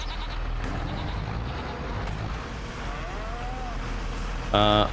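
Cows moo on a farm in Farming Simulator 25, a couple of drawn-out lowing calls over a constant low engine-like drone, moderately distant, with a brief bright electronic tone at the end.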